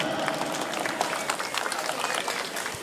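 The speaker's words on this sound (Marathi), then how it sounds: "जोरदार टाळ्या झाल्या पाहिजेत." Applause from guests at a housing project launch just after a logo unveiling, dense steady clapping that runs the whole time at moderate loudness with a crowd murmur beneath.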